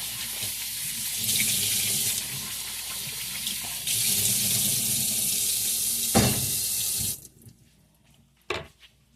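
Water gushes from a kitchen tap while food is rinsed, a loud continuous hiss that surges and shifts as the flow is handled, then cuts off, leaving a few faint splashes and clatters.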